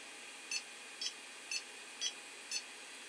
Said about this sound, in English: you probably hear the beeps there